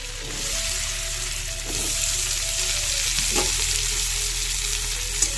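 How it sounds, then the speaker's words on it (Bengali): Potatoes frying in hot oil with a loud, continuous sizzle until reddish-brown, with brief stirring scrapes partway through; no talking. "আলুগুলো লাল লাল করে ভেজে নেব"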